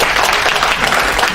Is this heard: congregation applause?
yes